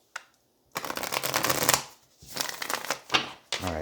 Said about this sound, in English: one more shuffle for Cancer